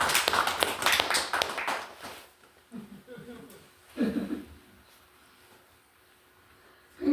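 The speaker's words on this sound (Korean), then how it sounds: "잠드는데 박수를 한번 쳐줘서." Listeners at a Buddhist sutra lecture give a brief burst of clapping that fades after about two seconds, followed by quiet room tone and someone speaking in short phrases.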